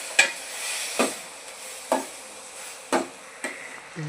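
A pan of banana stem chutney is stirred with a utensil: about five distinct scraping strokes, roughly one per second, over a faint steady background, fairly quiet and close.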